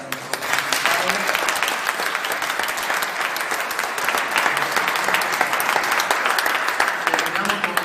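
An audience at a talk applauding, a dense, steady wash of clapping that holds at full strength throughout, with faint crowd murmur and a voice briefly audible beneath it.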